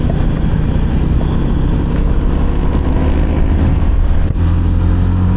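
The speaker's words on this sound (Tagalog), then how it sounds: "Sarap pakinggan ng makina na ito ni Winnie." A Winner X motorcycle engine revs loudly up close, a continuous throaty roar with a brief dip near the end.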